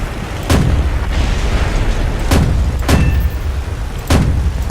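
Heavy autocannon fire from a Ju 87 dive bomber in the War Thunder video game, with five loud, booming single shots spaced about a second or two apart over a constant low rumble of engine noise.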